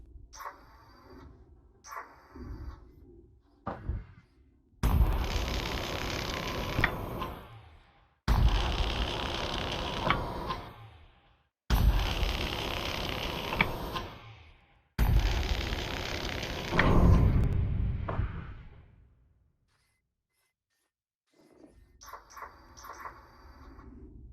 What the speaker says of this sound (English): Looks like I'll have to cut my way in.